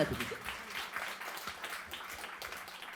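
Soft applause from an audience at an evening talk event with Lucie Castets, a steady faint patter of clapping heard from a distance with no voices over it.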